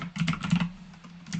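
Quick, close clicks of keys on a computer keyboard during Excel data entry, in a short irregular burst followed by a few scattered taps, with no talking.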